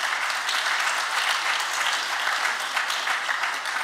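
An audience at a political speech applauds steadily, a dense wash of clapping hands held at a moderate level with no voices over it.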